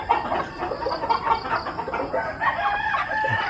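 Gilliam Roundhead chickens on a farm crow and cluck in a busy, mid-distance chorus, with overlapping calls and no human voices.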